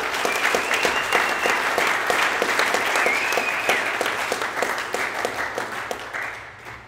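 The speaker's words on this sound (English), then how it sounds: "please round of applause for these amazing athletes" A crowd applauds steadily at a Legends of Squash exhibition event in Bermuda, with dense, sustained clapping that fades toward the end.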